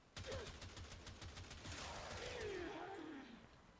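Tiberon Prime rifle in Warframe fires a steady run of rapid, evenly spaced semi-automatic shots, loud and close, with busy game effects and a rising electronic whine layered over the gunfire.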